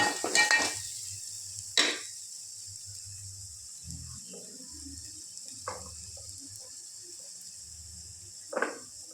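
Metal spoon stirring and scraping spice masala with salt in a pan, giving a few sharp clinks and scrapes spaced across a quiet background with a low hum.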